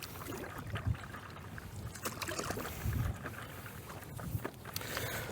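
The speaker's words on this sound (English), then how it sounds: "this would be a bloody good wind test. It slowed me right down" Strong gusting wind buffets the microphone outdoors, a low, uneven rumble that swells and dips in bursts for several seconds, with no one talking.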